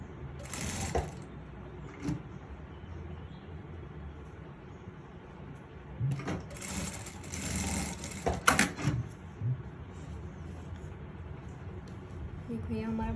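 A sewing machine stitching a half-inch seam on a designer Anarkali dress runs in bursts of buzzing whir, close and steady, with a voice talking at moments over the machine.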